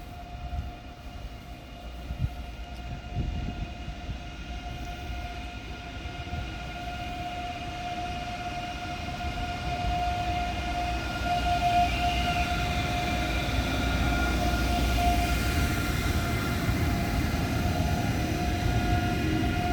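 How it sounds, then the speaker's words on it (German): An ICE 3 class 406 high-speed train departs Munich Hauptbahnhof, a steady low rumble with a sustained whine that slowly grows louder as it pulls away, heard alone in the station hall. "Ausfahrt eines ICE 3, Baureihe 406."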